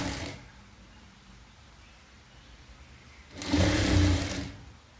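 A sewing machine stitches a trouser pocket, with a quiet low whir at the start, a near-silent pause, then a louder burst of running stitches for about a second before stopping.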